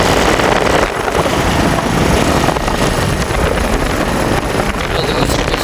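A motorbike ridden over a badly broken road under construction, heard as a loud continuous engine roar buffeted by heavy wind noise, close up, with no clear talk.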